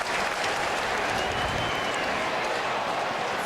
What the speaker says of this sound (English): Crowd are cheering Gary Ablett as he comes from the field